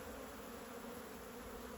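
Honey bees buzz steadily around a hive on a winter day, a dense continuous drone of many wings close by with no voices.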